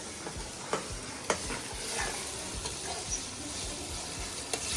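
Chopped tomatoes are stirred into onions and garlic frying over a wood-fired chulha for a bhaji, making a steady close sizzle broken by a few soft knocks and scrapes of the spoon.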